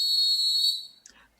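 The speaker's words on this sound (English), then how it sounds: "will you cue the blow the whistle drop?" A whistle sound drop cued on a sports talk show: a loud, steady, high shrill blast lasting under a second, then fading into a faint tail and brief murmur.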